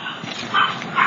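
Small chihuahua dogs yap and whimper in a brief, high, fairly loud burst of barking, heard alone without talk.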